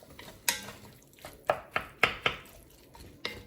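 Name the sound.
stirring garlic in vegetable beef soup pot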